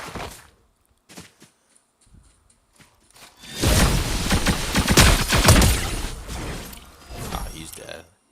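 Gunfire in a Fortnite match on Nintendo Switch: a few faint isolated shots early, then a loud, dense burst of rapid fire and impacts lasting several seconds, with a player talking over it.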